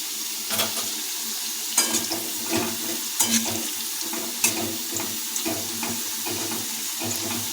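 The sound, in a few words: fish pieces frying in oil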